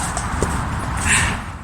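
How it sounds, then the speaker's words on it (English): Police horses' hooves clip-clop past on pavement in a steady walking rhythm, fairly close, with a brief swell of street noise as they go by. "Taking the horses out for a little bit of exercise."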